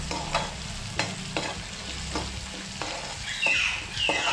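Spinach, red amaranth and kochai greens stirred in a hot pan, a steady sizzle of frying with repeated scraping strokes of the spoon, close and fairly quiet, no talking.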